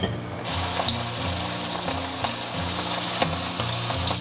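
Minnan vinegar pork pieces deep-frying in oil over medium-low heat, a steady dense sizzle with crackling bursts and faint clinks throughout, close and alone with no voices.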